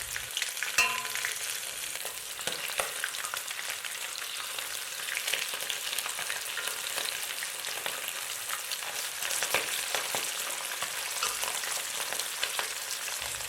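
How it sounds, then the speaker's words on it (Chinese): Shrimp-and-pork dumpling-wrapper rolls deep-frying in hot oil, a steady dense crackling sizzle that holds evenly for the whole stretch, close and fairly loud, with no voices. "就可以将鲜虾饺子皮放进去炸制了"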